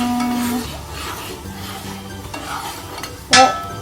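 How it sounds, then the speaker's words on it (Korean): A spoon stirs hot, just-boiling milk in a pot after vinegar is added to make cottage cheese, giving soft scraping and gentle bubbling with a sharp clink of utensil on pot near the end. "끓기 시작할 때 또 식초를 쪼르륵 쪼로록 넣고 그 다음 섞어주세요"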